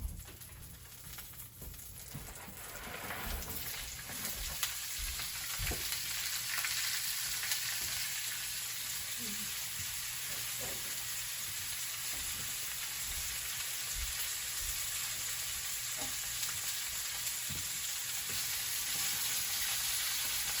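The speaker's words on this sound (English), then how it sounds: "And to that oil, we're going to add our apples and our onions." Sliced apples and onions sizzle in a spoonful of hot oil in a pan, a steady bright crackling hiss that stays even throughout with occasional small pops and no talking.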